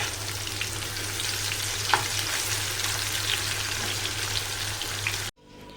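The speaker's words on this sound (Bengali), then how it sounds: "তো একটু লাল লাল করে ভেজে নেব আর কি এটা" Sliced spiny gourd frying in hot oil until browned: a dense, continuous crackling sizzle, close and even, with one brief clink, ending abruptly.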